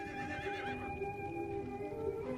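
A horse whinnies in a long, wavering neigh that rises and falls over a steady low background rumble, with no voices.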